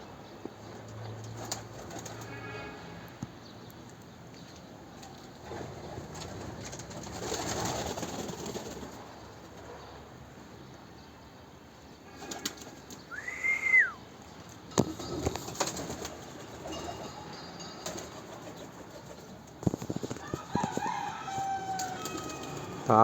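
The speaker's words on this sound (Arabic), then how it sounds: "الحمام مش عاوز يطلع. لا طلع، هو بدأ يطلع." Pigeons coo softly and shuffle about in their loft, with a scatter of rustles, light knocks and a brief higher call midway, all at modest loudness with no talking.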